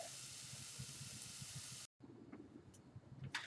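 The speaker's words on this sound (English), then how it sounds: "So I'm going to get these sauteed, and then we will put our pizza together." Peppers sautéing in a pan for homemade pizza: a soft, steady sizzling hiss, faint and close, broken by a brief cut, followed by quieter crackling and a few light clinks.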